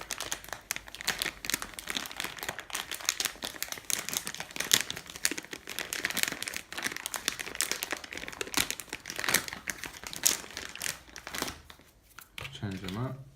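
A thin plastic bag crinkling and rustling steadily and close while being heat sealed with a battery-powered handheld sealer, continuous dense crackle with a brief quieter thump near the end.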